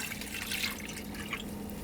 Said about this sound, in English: So we get a mason jar, it's about 2 cups of water. So we're gonna pour it into the pot.